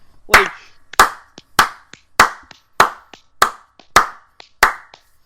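A single pair of hands claps eight times in a slow, steady rhythm, each sharp crack close and loud with brief silence between, no voices.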